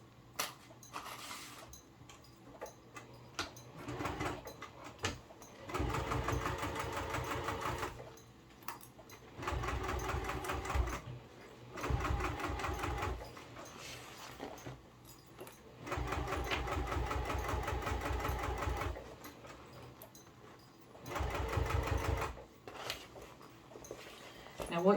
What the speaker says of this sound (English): So I'm going to start at the top, and I'm going to come right down to where I stopped sewing.